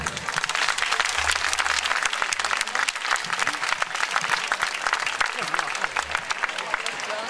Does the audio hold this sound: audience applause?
yes